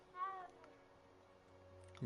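A cat in the Hogwarts Legacy video game gives a short, clear meow near the start, then fades into quiet game ambience.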